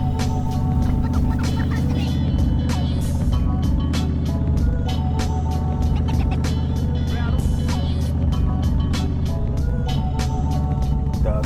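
Honda VTX bagger motorcycle riding on the road, a steady loud engine drone with low harmonic rumble running continuously throughout, with some clicks and rattles over it.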